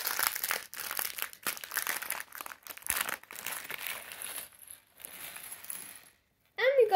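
Plastic parts bag from a Lego Minecraft Coral Reef set crinkling and tearing open up close, rustling in irregular bursts, then a brief rattle of small pieces after a short silence.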